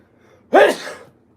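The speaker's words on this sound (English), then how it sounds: "I have to sneeze." A single sharp, close sneeze bursts out of near silence and trails off quickly.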